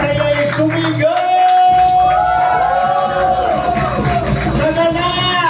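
A church congregation at a praise and worship service shouts and cheers joyfully. A sustained mass of loud voices rises and wavers, with whoops and long sung-out cries layered over a dense crowd roar.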